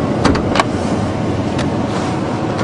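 A 1977 Grand Prix with a 301 V8 engine cranks and runs on a cold start, a loud steady rumble heard up close with a few sharp clicks near the start and no talk.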